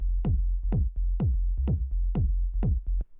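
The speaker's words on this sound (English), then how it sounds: "So if I play that with the kick, you can kind of hear how it sounds" Minimal house groove at 126 BPM, a droning F bass line under a punchy kick drum hitting about twice a second, each thump with a downward pitch sweep, loud and close with no voices.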